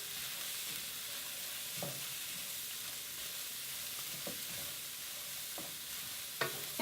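Vegetables sizzling and being stirred in a pan with no oil or butter, a steady close frying hiss with a few scraping stirs, no talking.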